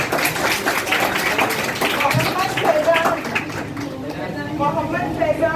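Scattered clapping rises among a crowd as children receive certificates, the patter blended with talking voices and background noise.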